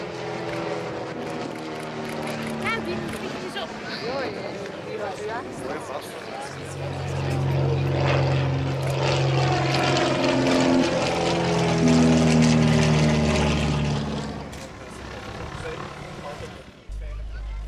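A Noralfa M1100 four-seat propeller aircraft, based on the German WWII Me 208, runs its engine at a Belgian airfield event, a loud droning hum that swells in the middle and fades, with a voice talking over it.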